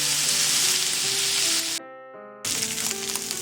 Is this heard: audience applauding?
no